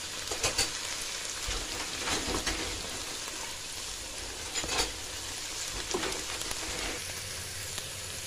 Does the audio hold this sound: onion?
yes